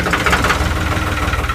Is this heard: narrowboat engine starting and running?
yes